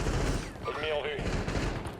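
Gunfire in the Warzone battle royale game, a burst of rapid shots layered with in-game sounds and a brief tonal effect, loud and dense throughout.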